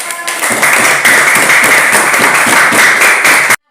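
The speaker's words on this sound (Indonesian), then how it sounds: "Kita tepuk tangan berkelompok." Schoolchildren in an Indonesian classroom clap their hands together in groups, producing loud, dense, rhythmic clapping that lasts a few seconds and stops abruptly.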